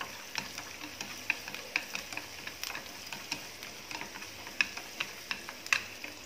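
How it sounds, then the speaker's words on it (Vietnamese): Shallots and garlic frying in a pan for rice porridge, giving a steady soft sizzle broken by frequent small ticks and crackles, close and fairly quiet, with no one talking. "Rồi bây giờ mình phi hành tỏi để mình bỏ qua nồi cháo cho nó thơm nè cả nhà."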